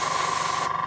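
An airbrush sprays green paint onto a Tamiya SU76M model, a steady close hiss that stops abruptly near the end.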